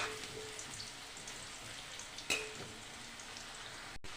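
Potato pieces frying in plenty of oil with turmeric and salt, giving a steady close crackle and hiss, with a brief louder scrape of stirring partway through and no talking.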